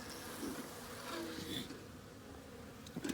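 Honeybees buzz around an open hive during an early spring inspection, a close, continuous droning hum that stays steady for the whole moment.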